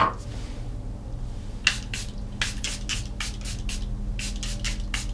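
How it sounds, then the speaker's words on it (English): A series of short, hissing sprays from a Charlotte Tilbury Airbrush Setting Spray pump bottle, about a dozen quick spritzes in irregular bursts, close and fairly quiet. "Over top, Charlotte Tilbury Airbrush Setting Spray."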